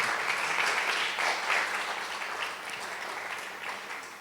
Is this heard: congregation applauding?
yes